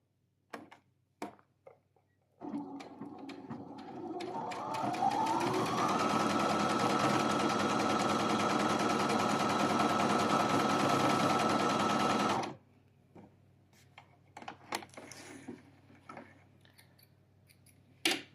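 An embroidery machine converted to straight-stitch sewing starts after a few light clicks. It runs at a fast, steady, loud rattling whir for about ten seconds, then stops, and a few handling taps follow.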